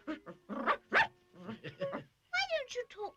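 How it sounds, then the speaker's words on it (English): A cartoon poodle named Pom-Pom barks in a string of short yips and whimpering bow-wows, close and clear, in two bursts separated by a brief pause; the barking sounds voiced by a person. "Dogs always bark when they talk."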